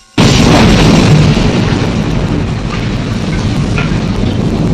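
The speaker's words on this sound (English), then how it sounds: "the low-end LFE level, it really makes its debut with the big explosion at the end" A big explosion from the film Halloween II bursts in suddenly and loudly, then rolls on as a dense, heavy boom with deep low-end rumble that holds for several seconds without easing.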